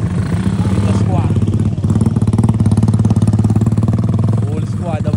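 A motorcycle engine idles close by with a steady, loud clattering rumble that holds throughout, while people talk nearby over the engine.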